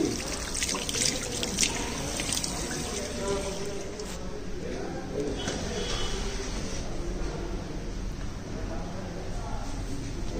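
Water runs steadily from a hand-washing tap at a hotel in Shonkosh Valley, a continuous splashing trickle with occasional drips, heard close while people talk over it.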